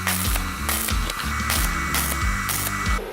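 Tack welding on the bottom of an industrial steel tube frame for a sliding gate: loud crackling arc bursts in a steady rhythm of about five short pulses, each with a buzzing hum, close up, no talking.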